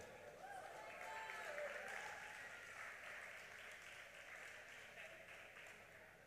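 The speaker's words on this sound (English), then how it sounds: "Give them a round of applause." A steady wash of audience applause at a high school underclass awards ceremony, distant and soft, holding evenly for several seconds with faint voices underneath.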